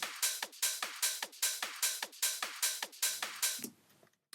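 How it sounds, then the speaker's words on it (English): A top percussion loop thick with hi-hat plays alone: crisp, bright hits repeat in a steady, even rhythm, each with a short decaying tail, before the pattern stops just before the end. "So there's a lot of hi-hat in there"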